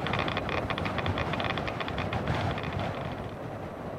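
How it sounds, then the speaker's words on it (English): Steady, roaring wind from the underwater survival game Subnautica, a dense broadband rush with a whistling, fluttering edge that holds at an even moderate level throughout, with no speech. "sounds like there's a lot of wind hitting me"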